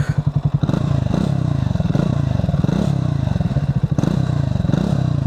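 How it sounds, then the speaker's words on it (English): A Triumph motorcycle engine idles with a rapid, throbbing exhaust pulse, then revs up and settles back, loud and close, with faint clatter underneath. "exhaust note is a bit different than that of the Speed 400"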